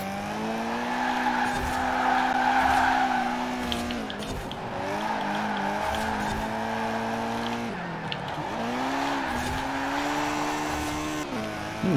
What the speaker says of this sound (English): Got some nice drifting going on